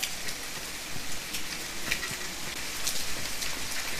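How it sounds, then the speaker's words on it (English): Steady rain in the forest survival game The Forest, patting with a light metallic ring like drops striking an old metal shovel, a continuous close hiss dotted with sharper individual drop taps. "Kind of sounds like rain is hitting like a shovel, an old metal shovel."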